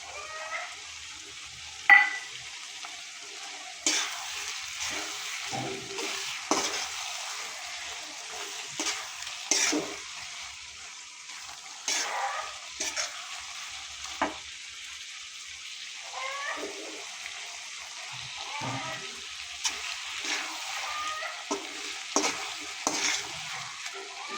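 Spices, and then tomatoes, fried and stirred in a pan while cooking a Bengali-style braised beef head dish, with a soft continuous sizzle broken by repeated scraping and stirring clatter, close and moderately quiet, no talking.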